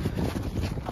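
Wind blowing across a frozen lake at an ice fishing tournament, a brief rough gusting rumble buffeting the microphone.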